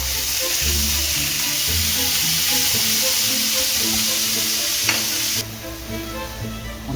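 Meat and bell peppers sauté in a pan: a loud, steady close-up sizzle that holds throughout, then drops a little near the end as heat or stirring changes, with no speech.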